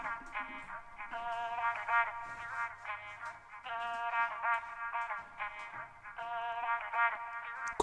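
A pitched-up recorded vocal sample forms a bright, chopped melody in an afroswing beat, repeating short bursts in a bouncy rhythm at moderate volume with no other voices.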